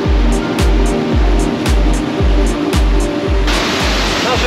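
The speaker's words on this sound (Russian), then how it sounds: "Водопад «Белые камни» – это самый высокий водопад Карелии." The White Stones waterfall in Karelia roars with a steady, loud rush of falling water, with repeated low thumps running under the noise.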